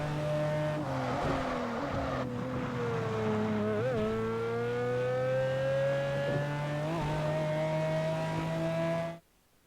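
A Pagani supercar in Test Drive Unlimited 2 screams at high revs, its engine note rising and dropping sharply at gear shifts around the four- and seven-second marks, loud and continuous before cutting off abruptly at the end.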